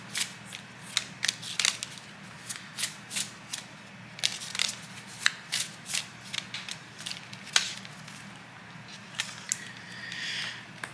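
A deck of oracle cards is shuffled by hand, giving a quiet run of crisp flicks and riffles in irregular bursts over a soft background hum.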